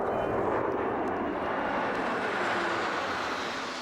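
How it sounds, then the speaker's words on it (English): A C-17 Globemaster military transport jet of the 429 Bison Squadron flies over a tree line on a brisk Remembrance Day morning, its loud, steady broadband engine roar filling the whole stretch without talk. "flying over the 4th Avenue tree line, the historic C-17 Globemaster of the 429 Bison Squadron pays honor to those who have given so much for our freedom."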